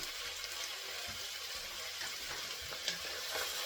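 Brisket frying with onions in a pan, a soft steady sizzle with occasional stirring scrapes and small clatters, close but fairly quiet.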